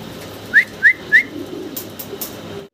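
Fancy pigeons at a seller's loft give three short, rising whistle-like calls in quick succession near the start, followed by a quiet room hum and faint rustling.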